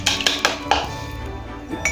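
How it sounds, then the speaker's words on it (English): Butter mixture is beaten in a bowl, a utensil clinking against the side in a few quick strikes before settling into a steady scraping whir, close and fairly loud. "Now we'll beat all this together."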